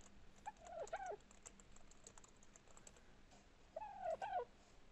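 Dodo bird calls in the video game Ark: Ragnarok: two short squawking, warbling cries, one early and one near the end, over a quiet, faintly hissing game background.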